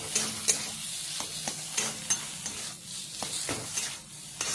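Banana flower cooked with poppy seed paste and green chili paste, stirred and fried in a pan with a spatula. Steady sizzle runs under repeated scraping strokes, with no talking.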